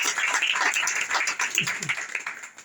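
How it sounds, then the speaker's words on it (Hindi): Audience at a Hindi-language Christian worship service applauding the word of God, a dense steady wash of many hands clapping for a few seconds, fairly close and full, with no talk over it. "कलाम खुदा के लिए जोरदार तालियां लगाएंगे"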